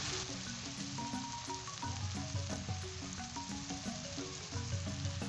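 Chicken sautéing in a pan with turmeric powder for a spicy village-style dry chicken dish, a bright continuous sizzle with occasional stirring scrapes, while music plays underneath.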